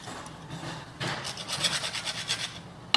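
A file rasps across a yellow brass faceplate on die-cast hardware in close, dry scraping strokes, a faint first pass followed by a louder run of rhythmic rubbing strokes.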